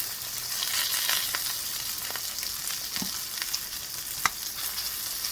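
Eggs, an extra-long hot dog and sausage fry together in olive oil over high heat, giving a steady, soft sizzle with a few faint pops and utensil taps.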